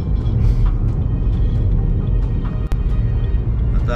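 Steady, dense road traffic at 5 a.m. on the Pune–Mumbai highway road near Baner, a continuous low rumble of passing vehicles with a brief sharp click partway through.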